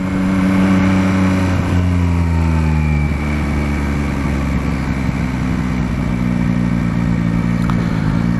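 A Yamaha Tracer 9 GT four-cylinder motorcycle accelerates hard on a road in the Morvan, its engine note climbing, breaking at quick gear changes, then rising again, loud and close throughout.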